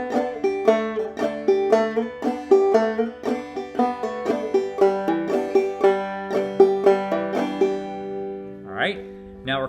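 A clawhammer banjo plays the tune Georgia Railroad at a steady, moderate pace, its bright plucked notes and thumb brushes close and clear, ending with a brief sliding sound.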